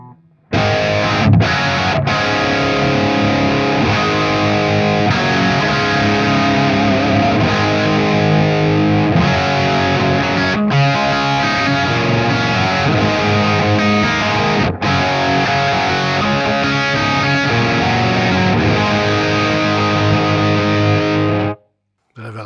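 Heavily distorted electric guitar played through a Peavey 5150 EVH signature amp, a loud sustained high-gain riff with chugging chords, running continuously with brief gaps.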